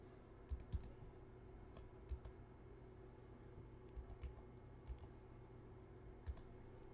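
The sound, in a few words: typing a PIN code on a computer keyboard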